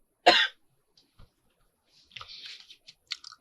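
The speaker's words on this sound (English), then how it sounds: "as you can hear, I have developed a cough." A single sharp cough, close and alone, followed by faint clicks and a soft rustle in a quiet room.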